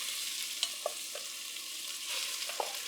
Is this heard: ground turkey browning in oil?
yes